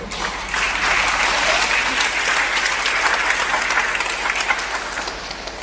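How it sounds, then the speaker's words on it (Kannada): An audience in a church applauds at a farewell ceremony for their parish priest, a loud, sustained roar of many hands clapping that begins abruptly and continues evenly with a low hum beneath. "ಆವತ್ತು ಅವರ ಡೌನ್ ಟು ಅವರ್ ಕ್ಯಾರೆಕ್ಟರ್ಗಳಿಗೆ ಜೋರಾದ ಚಪ್ಪಾಳೆ ಬೇಕೇ ಬೇಕು"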